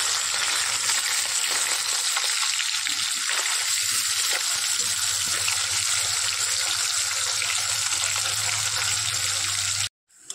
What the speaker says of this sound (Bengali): চলো কড়াই গরম হয়ে গেছে, মাছগুলো দিয়ে দিই।